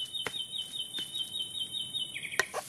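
A cartoon bird in a children's animated show chirps in a thin, rapid, warbling high trill that runs almost continuously, with a few sharper chirps near the end.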